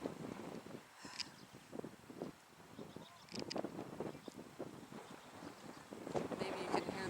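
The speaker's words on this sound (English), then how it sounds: "Maybe you can hear the wind." Strong, gusty wind sweeps across the microphone in the New Zealand mountains, a continuous buffeting roar that rises and falls in waves with no voices present.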